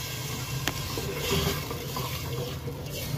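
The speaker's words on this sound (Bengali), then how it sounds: "3 কাপ চালে 6 কাপ পানি দিলাম।" Water pours into a pressure cooker holding Gobindobhog rice for white pulao, a fairly quiet continuous splashing flow lasting a few seconds.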